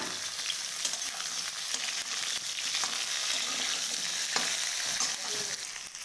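Potato and vegetable stalks fry in a pan with a steady, dense sizzle, joined by a few soft stirring scrapes throughout; no one speaks.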